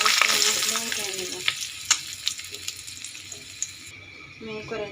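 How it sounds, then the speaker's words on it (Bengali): Pabda fish sizzling as they fry in oil in a pan, a steady hiss with scattered sharp crackles and pops, close and fairly loud, fading slightly toward the end. "মাছগুলো আমি উল্টে পাল্টে সুন্দর করে ভেজে নেব।"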